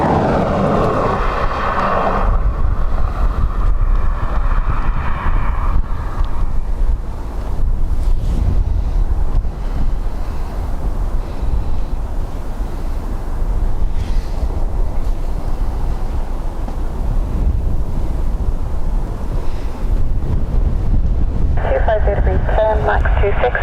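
Strong gusty wind buffets an outdoor microphone at Dublin Airport, a loud continuous low rumble that roars on for the whole stretch, with faint aircraft engine noise and a brief tonal whine near the end.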